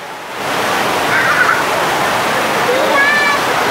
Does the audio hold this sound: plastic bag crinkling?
no